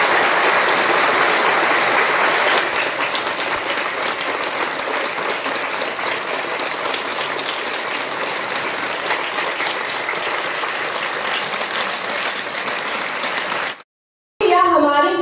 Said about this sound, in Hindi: सभी शिक्षक गणों के लिए जोरदार तालियां हो जानी चाहिए